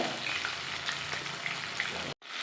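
Quail pieces fry in oil over a medium flame in a Kerala-style kada fry, giving a close, even crackling sizzle that stops abruptly near the end, with no talking.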